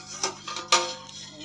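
Two brief metallic clinks of a lid being set on a pot of chana dal, close and fairly soft, in an otherwise quiet kitchen.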